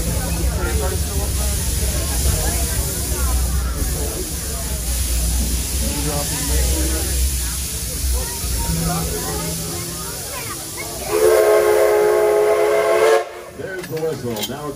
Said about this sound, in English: There's the whistle. Now it's safe to deboard.